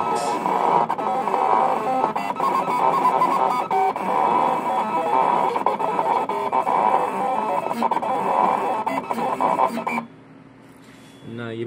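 A Liyu SC631 vinyl cutter plotter cuts heat transfer vinyl with a steady, loud mechanical whirring and rattling drive noise up close, running continuously before dropping to a quieter hum near the end.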